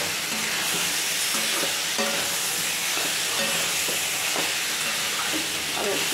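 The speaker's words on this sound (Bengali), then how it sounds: "পরিমাণ মতন একটু চিনি দিয়ে দেবো, দিয়ে আবার একটু নাড়াচাড়া দিয়ে নেব।" Soya chunk curry with added sugar stirred in a pan over the heat, a steady sizzling hiss with repeated scraping strokes of a spoon, close and continuous, no voices.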